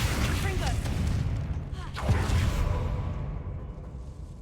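Confringo fire spell blast in the Hogwarts Legacy video game, a loud rumbling boom with whooshing crackle that sustains and then slowly fades, over a continuous low roar.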